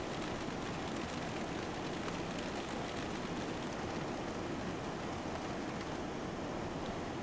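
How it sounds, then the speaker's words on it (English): Steady, even patter of rain striking an aircraft windscreen in the X-Plane 11 flight simulator, a continuous soft hiss of many drops with no pauses. "Adds a realistic sound of raindrops hitting the windscreen."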